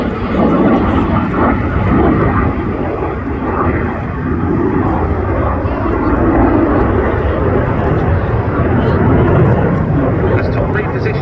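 An RAF Eurofighter Typhoon fast jet performing an airshow display at Cosford, its engine roar steady and loud throughout, with commentary heard over the top.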